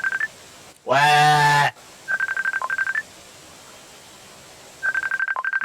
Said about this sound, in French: t'as ajouté une sonnerie